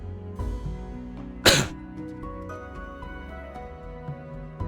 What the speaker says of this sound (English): Sorry, it's a cough.